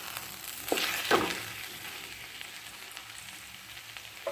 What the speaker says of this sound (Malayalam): എന്നിട്ട് നമുക്ക് ഇതെല്ലാം കൂടി നന്നായിട്ടൊന്ന് മിക്സ് ചെയ്യാം